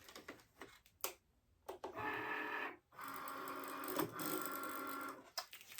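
A cutting machine slices an offset outline, whirring and buzzing in two sustained runs with brief pauses, clicks and a soft ticking between passes, close by.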